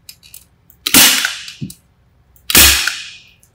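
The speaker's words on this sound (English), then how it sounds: "he'll staple the membrane to the side of the joist" A staple gun fires twice, each a sharp, loud snap about a second and a half apart, fixing an airtightness membrane to the side of a timber joist. Light handling noises fall between the shots.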